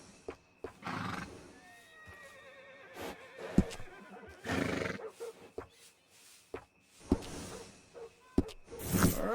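Horse in the Red Dead Redemption 2 video game neighs in a few rising and falling whinnies, with snorts and soft hoof thuds between calls, fairly close and without talk.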